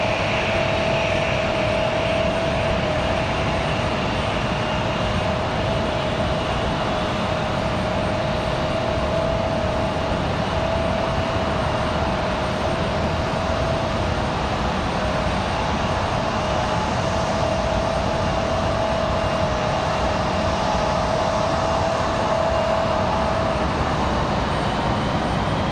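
An Alaska Airlines jet at Raleigh-Durham International Airport on a windy day, its engines a steady, loud roar with a faint whine, continuing unbroken at a distance.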